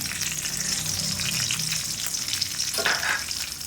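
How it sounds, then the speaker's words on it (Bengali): Five-spice seeds, three dried chillies and three bay leaves sizzle loudly in hot white oil in a kadai, a continuous close frying hiss with some stirring scrapes, for a prawn and spinach curry. "তেলটা গরম হয়ে এসেছে, এর মধ্যে আমি 5 ফোড়ন, 3টে শুকনো লঙ্কা, 3টে তেজপাতা দিয়ে দিলাম"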